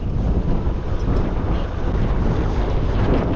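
A boat under way on open water with wind buffeting the microphone, a continuous loud roar of wind and sea rush over a low engine drone, with no voices.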